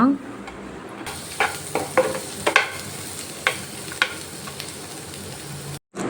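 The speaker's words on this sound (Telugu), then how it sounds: "ఆనియన్స్ బాగా ఫ్రై కావాలండి" Onions fry in a pan for a white pasta dish, a soft constant sizzle broken by a series of scraping stirs and clinks of a spoon against the pan, close by with no talking.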